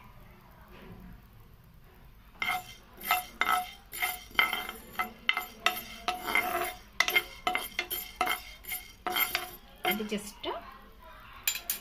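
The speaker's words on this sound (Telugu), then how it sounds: "ముందుగా స్టవ్ ఆన్ చేసి కళాయి పెట్టి దాంట్లో మెంతులు వేయించుకుందాం" Fenugreek seeds are stirred in a kadai, giving a series of close metallic scrapes and clinks from a spoon against the pan, irregular and rhythmic, with a brief spoken phrase.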